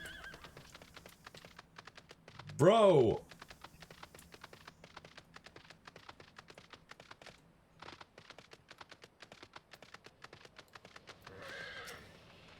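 In a video game, a horse whinnies loudly once, a sharp descending neigh, over a running patter of galloping hoofbeats that continues throughout, with a brief shout and a softer snort near the end.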